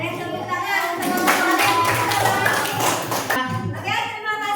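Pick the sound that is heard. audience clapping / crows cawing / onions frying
audience clapping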